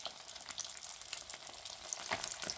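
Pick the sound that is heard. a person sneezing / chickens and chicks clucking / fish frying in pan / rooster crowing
fish frying in pan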